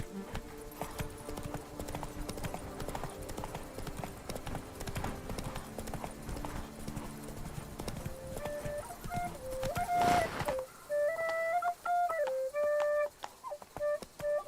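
A horse gallops in The Witcher 3, rapid hoof clip-clops over game music and ambient noise, then a snorting whinny and a shift to sparse melodic music.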